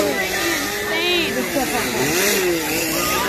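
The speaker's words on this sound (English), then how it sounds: "They're real chainsaws, just without a boiler." Real gasoline chainsaws with no blades run on a haunted trail, giving a continuous rough, buzzing drone with wavering pitch. Shouting voices mix in, and the whole scene stays loud and busy.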